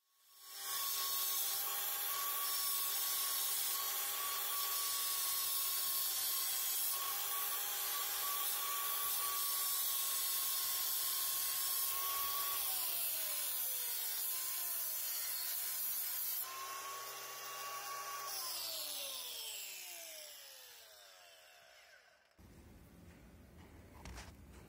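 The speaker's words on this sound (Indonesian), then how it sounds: "Sekarang kita coba yang metal grinding ya." An angle grinder with an abrasive grinding disc works metal, a loud sustained high whine with rough grinding noise that dips in pitch as the tool slows and stops near the end.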